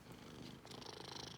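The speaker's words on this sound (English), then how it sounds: "My cat, Willow." A cat purrs close by in a quiet room, a soft, steady rumbling with a slight rhythmic pulse and no voices.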